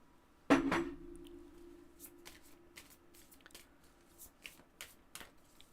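A deck of tarot cards is riffled in a quick burst, then handled with soft, scattered taps and slides, close by with no voices.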